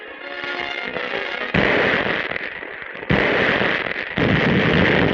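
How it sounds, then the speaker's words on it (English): Mortar and machine gun fire in a WWII newsreel battle scene, loud and continuous, with a sustained rattle of bursts and blasts that jumps louder in several sudden steps, and no voices. "Mortar and machine gun experts clear the way for the infantry attack."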